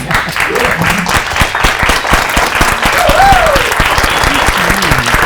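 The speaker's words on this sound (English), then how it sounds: "Stand to your feet and give them a round of applause." An audience rises to give a standing ovation at the Safe Havens II launch event, dense and sustained clapping from a large crowd, with voices and cheers mixed in.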